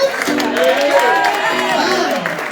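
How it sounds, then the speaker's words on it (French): A church congregation at an evening service applauds amid crowd noise, with scattered cheers and whoops; a voice with sung or sustained tones carries over the clapping throughout. "Et applaudis-toi pour toi-même."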